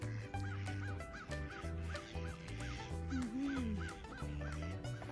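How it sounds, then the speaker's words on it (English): Several ducks honk in repeated short calls on a cold, sunny winter day after a snowstorm, near and fairly loud over a steady low background hum. "And more ducks over there."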